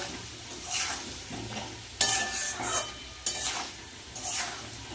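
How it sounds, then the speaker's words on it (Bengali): Young jackfruit and potato pieces sautéed with spices in a pan, stirred in several separate bursts of scraping and sizzle with short quieter gaps between them, close and fairly loud. "এবার ভালো করে এঁচোড় আলু মশলাটার সাথে ভালো করে কষিয়ে নেব"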